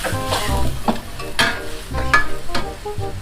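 Spicy duck neck stir-fried with curry paste in a hot pan: steady loud sizzling with repeated scraping strokes of the spatula at a quick, uneven rhythm, close up and with no voices.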